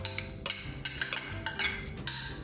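A big metal spoon scraping and clinking against a bowl while scooping grated Parmesan cheese for a Tuscan chicken pasta, a series of light, close, irregular taps and scrapes.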